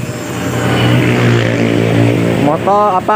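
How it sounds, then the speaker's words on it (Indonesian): Engine of a Toyota Agya car running after an oil and oil filter change, a steady close idle hum with a voice speaking over it near the end. "mesin sudah menyala, ya."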